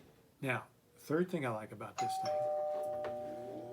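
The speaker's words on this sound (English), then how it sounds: "That was the doorbell" A doorbell chimes indoors with a clear sustained ding tone that rings out and fades, sounding just after a man's speech stops.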